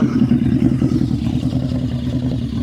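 A liquid-cooled Harley-Davidson Night Rod V-Rod engine from 2006 runs close by at a steady, throbbing idle-to-mid rev, loud and unbroken with a low pulsing rumble and no talk.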